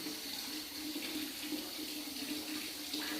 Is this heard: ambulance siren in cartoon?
no